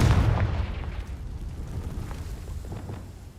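A Confringo spell detonates in Hogwarts Legacy with a deep, loud blast at the start, then a rumbling, crackling tail that slowly fades over a few seconds.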